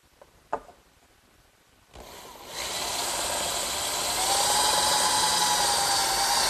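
A power drill bores bolt holes through clamped wooden swing braces, a loud close whirring hiss that starts after a couple of clicks and runs steadily to the end without speech.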